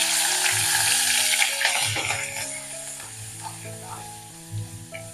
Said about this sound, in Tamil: பஜ்ஜி மிளகா ஒரு நிமிஷம் வதங்கட்டும் எண்ணெயில்.